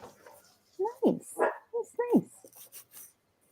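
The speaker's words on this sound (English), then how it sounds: "what the dog's barking at" A dog barking at home: a few short, fairly close barks and yips running together with a person's voice.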